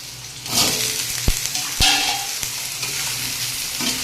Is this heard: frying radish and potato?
yes